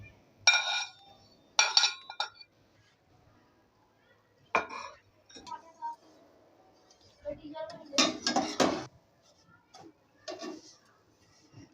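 Vermicelli added to a pan over low heat brings scattered clinks and scrapes of utensils against the metal pan, a few sharp taps in quiet gaps, with a voice talking intermittently.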